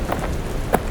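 Steady rain falls heavily at night, with a brief crack of distant thunder rising near the end of a short burst.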